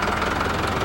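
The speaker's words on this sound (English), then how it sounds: "this machine here, this pump, for a night if it was running with the tractor, it will irrigate about 30 acres" A tractor-driven irrigation water pump runs on a Jamaican rice farm, giving a loud, steady, close engine drone with a rapid knocking pulse and no pauses.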